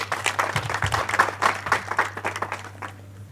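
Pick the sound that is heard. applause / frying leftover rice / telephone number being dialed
applause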